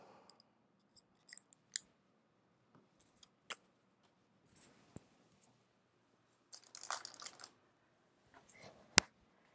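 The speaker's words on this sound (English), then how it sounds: "I'm just gonna cut this off" Scissors snip through paper for a scrapbook layout, with a few separate quiet cuts and crinkles spaced irregularly, then a longer rustling cut and a final sharp snip, close by and without talk.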